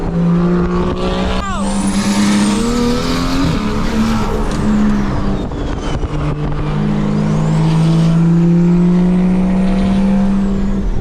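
A loud BMW G80 M3 engine at Monterey Car Week drones steadily and rises in pitch as it revs, with whining tones shifting up and down throughout.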